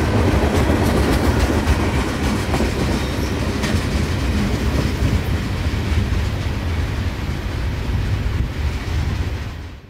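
A freight train carrying white covered hoppers rolls past in Central Florida, with a loud continuous rumble and steady clickety-clack of wheels on rail joints throughout, close by and filling the whole stretch.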